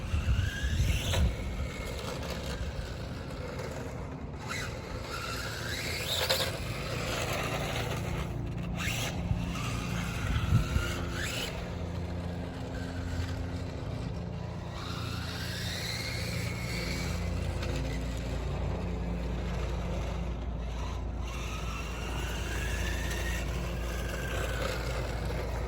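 Brushless-motor RC Batmobile toy car, a 1989 RichMan's Toys restomod, run at full throttle so it spins out, giving a continuous high-pitched electric whine with repeated rising and falling revs, close and loud, no talk.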